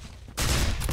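A sudden loud burst of gunfire in the horror game Condemned: Criminal Origins, breaking in abruptly after a brief low rumble and ringing on to the end of the short clip.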